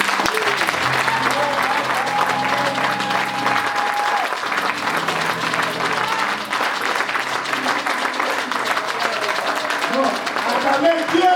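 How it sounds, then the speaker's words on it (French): A church congregation claps and cheers in praise of God, steady sustained applause filling the room with crowd voices and a sung tone weaving through underneath. "Acclamez Dieu pour vous-même."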